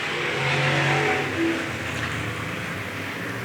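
Race cars in a heat race at Bakersfield Speedway roar past at a distance, a steady swelling drone of engines that rises and then eases, heard alone over open crowd noise.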